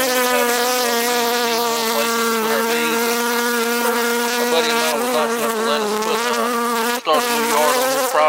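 Honey bees from newly split colonies swarm in a steady, loud, close buzzing drone that holds throughout, with one brief dip near the end.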